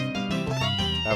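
A cat meows in the Harvest Moon: A Wonderful Life video game, a drawn-out tonal call of about a second, clear and alone.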